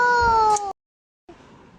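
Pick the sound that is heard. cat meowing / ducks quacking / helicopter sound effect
cat meowing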